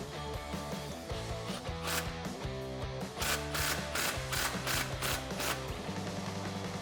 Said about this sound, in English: I'm going to use a 15mm deep socket.